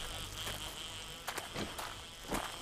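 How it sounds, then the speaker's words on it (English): Bees buzz steadily while attacking in the survival video game 7 Days To Die, a high insect drone with a few soft thuds and scuffs over it, fairly close and moderate in volume. "Fucking getting attacked by bees."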